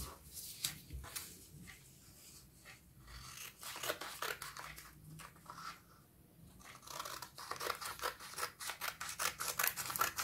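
Scissors snip steadily through fabric for a baby's shoulder bib, a run of crisp, close cuts with short pauses between strokes and no talking.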